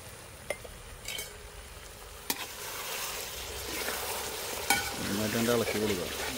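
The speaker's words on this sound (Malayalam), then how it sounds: "നന്നായിട്ട് ഇളക്കി കൊടുക്കുക." Chicken curry with chili sauce sizzles steadily in a pan while a utensil stirs it, with a few sharp clinks against the metal and a louder burst of frying toward the end, with no talking.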